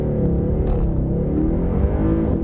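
A Mercedes-Benz C63 AMG Black Series accelerating hard on a test track, a loud, dense engine roar with climbing revs, close and continuous with no talking.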